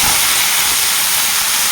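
Potato and pointed gourd fry in a pan with a loud, steady, broadband sizzling hiss that stays constant and close throughout.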